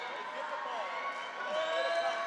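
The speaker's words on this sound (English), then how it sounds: "I'm hearing the Quincy fans yelling at us." Basketball fans roar and yell in a gym during an IESA 8th-grade championship game, a steady, distant crowd din with scattered shouts that swells slightly toward the end.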